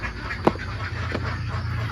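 Ducks on a duck farm give one or two quacks over a steady low background rumble, fairly close, with no talk.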